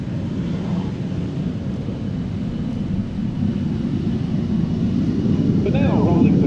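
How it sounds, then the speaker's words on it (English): A Curtiss P-36 fighter's piston engine drones steadily and grows louder as the aircraft gets airborne at a Battle of Britain air show at Duxford, with a commentator talking over it. "The Curtiss P-36."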